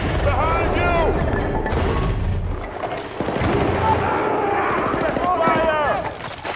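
Gunfire and explosions from the video game Battlefield: Bad Company: sustained loud bursts of shooting and booms filling the whole stretch, with voices shouting over the combat.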